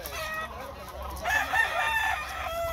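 A rooster crows once in a farmyard, a short, fairly close call that rises partway through amid low background noise and brief clucking.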